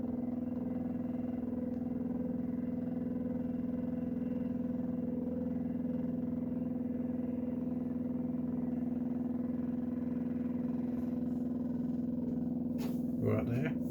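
Electric motor of a new turntable on the Swanage model railway runs as a steady, even hum with a constant tone throughout, close and moderately loud, with a brief clatter near the end.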